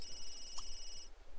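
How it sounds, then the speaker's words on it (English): A phone in The Sims 3 gives a brief electronic ring with bright sustained tones over a low background hum, cutting off after about a second. "Who's calling you? Let's just go ahead and ignore your phone right now."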